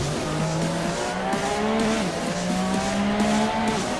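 Ferrari 458 race car braking hard, its tires squealing in wavering, repeated howls over the engine as the wheels lock up, loud and close-up for several seconds with nobody speaking.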